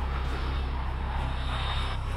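Aircraft engines droning steadily and loudly through an intense aerial dogfight in a naval combat video game, a continuous broadband roar with no pauses or voices.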